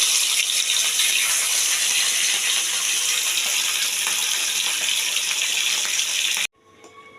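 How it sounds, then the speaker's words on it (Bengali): Rohu fish pieces, marinated in salt and turmeric, fry in hot oil in a pan with a loud, steady, close hiss that cuts off abruptly near the end. "আর এখন ভাজবো। লাল করে ভেজে তুলে নিয়ে"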